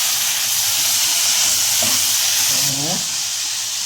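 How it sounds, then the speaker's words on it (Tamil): Onions sautéing in a pan for village-style dry fish gravy give off a loud, steady sizzle and hiss close by, and a brief voice comes in near the end. "வெங்காயம் பாருங்கள் நல்லா முக்கால் பதத்தில் வதங்கிருச்சு"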